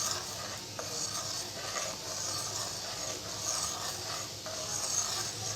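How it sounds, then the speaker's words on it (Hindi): A spoon stirs vanilla custard mixed into milk, giving a steady scraping, rasping rub against the pan with a few soft clinks, close and continuous without talk. "आहिस्ता आहिस्ता डालेंगे और चम्मच से हिला लेंगे"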